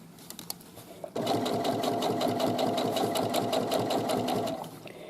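A sewing machine stitches a side seam with a pocket. A few faint clicks come first, then a close, steady rapid chatter of stitching runs for about three and a half seconds before it slows and stops.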